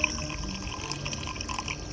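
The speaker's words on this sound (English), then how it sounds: "It's a steady stream of coolant" Coolant runs in a steady, faint trickle from the cooling system of an overheating 2006 BMW X5 E53 3.0i, with no break in the flow.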